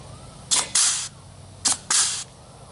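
A grease gun forces grease into the E-Z Lube zerk on a Dexter axle lawn mower trailer wheel bearing, giving four short, sharp hissing spurts in two close pairs against a quiet background.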